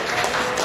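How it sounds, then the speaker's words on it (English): A lounge audience bursts into brief, loud applause, a dense wash of clapping hands with a faint crowd murmur underneath. "By a loud applause so we can hear it on the internet."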